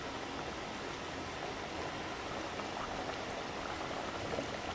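Dal masala simmering over a low flame, a steady dense bubbling hiss that holds evenly throughout with no voices.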